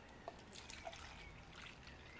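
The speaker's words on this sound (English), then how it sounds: "Now I'm gonna pour that in my container" Milk tea poured into a container, a soft trickling liquid stream with small drips, faint and close, no speech.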